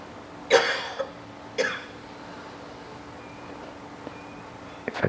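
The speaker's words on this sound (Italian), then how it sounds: "questi lievi accenni di tosse amorevole" Two light coughs close by, a few seconds apart, followed by quiet room noise and a couple of faint clicks.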